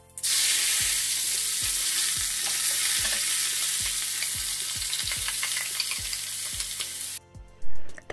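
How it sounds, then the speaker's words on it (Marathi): Mustard seeds, cumin and curry leaves crackle in hot oil, a dense continuous sizzle with many sharp pops scattered through it for about seven seconds before it suddenly cuts off. "मोहरी, जिरं आणि कढीपत्ता छान तडतडल्यानंतर जे आपण हिरवं वाटण केलं तर ते घालायचं."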